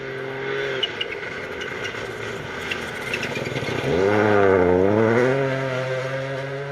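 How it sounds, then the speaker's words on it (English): A Toyota GR Yaris rally car on a stage of a Welsh rally championship event in North Wales, its engine roaring loudly and steadily before the pitch rises and swoops as it passes close by. "Myron Evans, Dale Furness should be up next in their Toyota GR Yaris"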